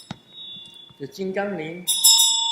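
A brass or bronze bell is struck once and rings with a sustained metallic tone, followed by a voice speaking and a brighter ringing toward the end.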